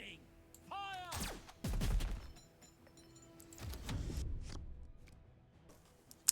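Cannon fire in the Warpforge video game: several heavy booming blasts in quick succession, then a pause and two more, with a final sharp crack, set among chirpy game effects and bits of voice.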